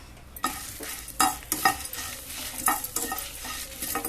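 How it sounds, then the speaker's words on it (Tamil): Whole spices dry-roasted in an empty hot pan for chicken sukka, stirred with quick scraping, rattling strokes close by, with a few louder scrapes and no talking. "வெறும் சட்டியில் வானம் தனித்தனியாக வறுக்காமல் ஒரே சூடாக எல்லாத்தையும் போட்டு ஒரு வறு வறுத்துக்கணும்"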